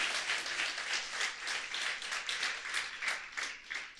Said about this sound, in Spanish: dale fuerte el aplauso a tu Dios